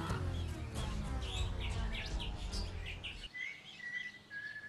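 A parrot and striped crows call in an Australian forest near Melbourne, with several chirps and whistled calls over a dense, steady rumble of background noise, then clearer rising whistles near the end.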